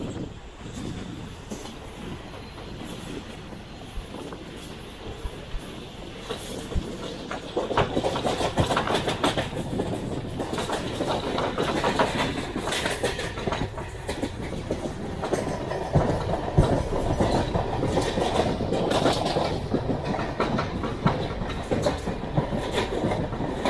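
Mumbai suburban EMU train on the Harbour line toward Panvel, heard from inside a first class coach: a continuous rumbling roar that grows louder midway, with rhythmic wheel clatter over rail joints.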